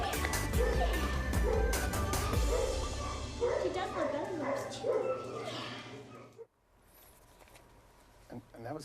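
A five-month-old female pit bull mix puppy barks and whimpers in a busy morning TV studio during a pet adoption segment, with voices around her before things drop to near quiet at the end.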